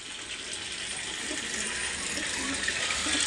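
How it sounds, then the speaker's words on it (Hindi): Water pours continuously into a bucket, a steady rushing gush from a tap that grows slightly louder as the bucket fills, close by and with no talking. "वहाँ पर एक और बाल्टी भरूँगा"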